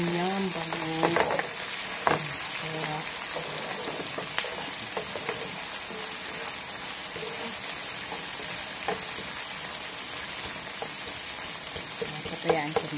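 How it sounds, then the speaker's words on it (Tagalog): Garlic frying in a pan until golden brown, a steady close sizzle and crackle with occasional stirring clinks and scrapes throughout. "kailangan muna natin medyo golden brown yung garlic"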